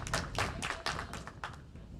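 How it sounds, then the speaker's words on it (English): Scattered applause from spectators in the stands at a men's trap shooting match in Osijek, Croatia: a handful of quiet, distinct claps in an uneven rhythm, heard at a distance over a low background rumble. "He's getting some applause from the stage, from the stands to the stage."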